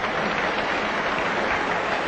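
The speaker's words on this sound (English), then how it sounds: "The Pittsburgh crowd going wild." A Pittsburgh crowd at the 1960 World Series Game 7 between the Yankees and Pirates cheers and applauds in a dense, continuous roar of mixed noise, steady and broad.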